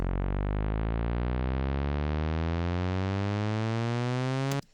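A drum and bass synth bass note glides steadily upward in pitch over several seconds via a pitch envelope, a smooth rising sweep that stops abruptly.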